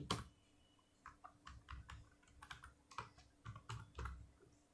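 Fingers tapping out a search on a computer keyboard, a quick, irregular run of close, soft key clicks with no voice.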